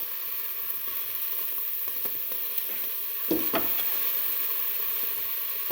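Pieces hit a hot pan and sizzle in a steady close hiss, with a couple of sharper crackles and a brief stir partway through.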